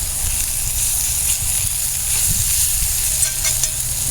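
Venison liver with bacon and onions frying in bacon grease in a pan makes a soft, continuous sizzle and hiss, close by and fairly even throughout.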